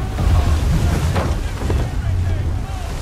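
A sailing warship running at full sail in Assassin's Creed 3, with wind and water rushing continuously and loudly, a low rumble underneath.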